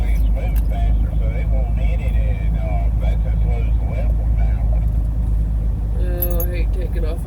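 A 2020 Freightliner Cascadia semi truck with an automatic transmission pulls away on a hill with a jolt, its engine rumbling loud and steady throughout while someone talks over it and a brief higher tone rises near the end.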